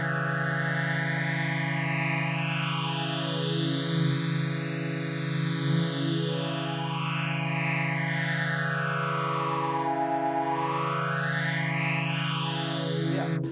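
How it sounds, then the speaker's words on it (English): Fat, resonant phaser tone from Doepfer modular synth modules pushed near self-oscillation, with sweeping notches gliding up and down over a steady harmonic drone, loud and continuous with no talk. "You obtain a very, very fat phaser sound of these modules"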